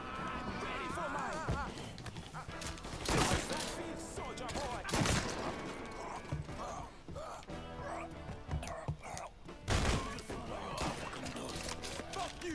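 Gunshots ring out in Mafia 3 amid a dense, busy game soundscape, with several sharp loud bursts spread across the stretch and someone talking over the action.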